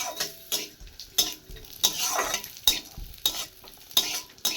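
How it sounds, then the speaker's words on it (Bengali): Cashews and raisins fry in hot ghee in a pan, a light sizzle punctuated by repeated sharp metallic scrapes and clinks of a spoon stirring, close and steady, with no voices. "তো ঘিটা আমার গরম হয়ে গেছে, এবার কাজু কিশমিশটা আমি ভালোভাবে ভাজে নিব।"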